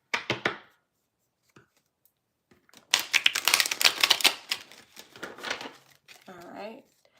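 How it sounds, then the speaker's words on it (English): Tarot cards are riffled and shuffled in quick bursts of crisp, papery flutter, close by, with short pauses between rounds. "Let me give this a shuffle, Chelsea."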